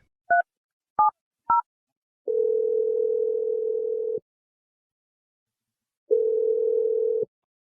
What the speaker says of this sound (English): I'm dialing your number right now.